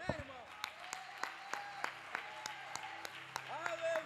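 Church congregation clapping at a worship service, irregular scattered claps with sharp spikes throughout, heard under an ongoing voice and background music.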